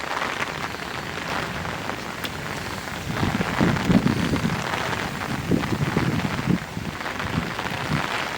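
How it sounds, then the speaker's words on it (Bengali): Heavy rain pours down steadily during a storm brought on by a low-pressure system, a dense, continuous hiss that grows louder partway through, with no voices. "সারা রাত একভাবে বৃষ্টি হচ্ছে।"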